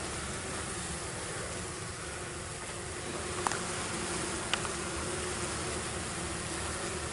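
Around 3,000 honeybees fill a package during hive setup, giving a steady, dense buzz that holds evenly throughout, with a couple of brief faint clicks and no talk.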